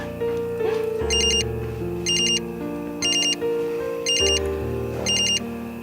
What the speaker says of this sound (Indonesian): Itu telepon dari siapa?